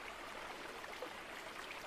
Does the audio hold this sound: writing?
no